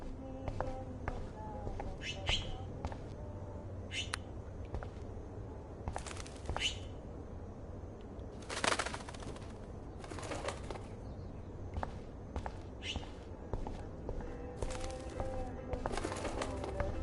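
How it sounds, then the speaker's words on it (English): A bird trapped indoors in Life Is Strange flutters its wings in repeated short bursts, with faint cooing and footsteps beneath, over a steady low background hum and occasional talk. "That poor little bird has been trapped in here."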